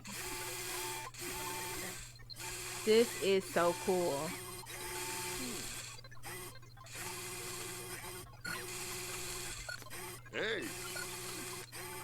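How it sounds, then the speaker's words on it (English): A 3D printer runs in The Sims 4, giving a mechanical whirring and buzzing that comes in segmented bursts with brief gaps, under a person talking casually. "Yeah, this is totally like a 3D printer."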